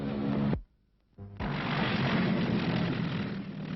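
A P-38 Lightning twin-engine fighter flies low and loud, its broadband engine roar cutting out abruptly for a moment before swelling back in and holding steady.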